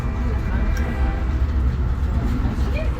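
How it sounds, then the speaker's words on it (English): A Great Smoky Mountains Railroad train rumbles past close by, a steady heavy low roar with faint rattling on top, loud and continuous throughout. "Here the train come through."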